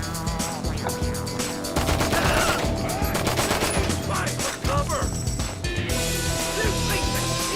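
Gunfire breaks out in GTA 5 Online: rapid bursts and scattered cracks of shots stack up in a dense, loud volley, with a voice now and then heard over the shooting.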